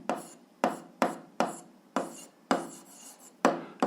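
Handwriting while working an algebra exercise: sharp, scratchy strokes land in a quick, uneven rhythm, close up and alone, with no voices.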